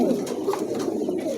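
A pair of pigeons offered for sale coo softly and continuously, a low murmuring warble held close and steady through the short stretch.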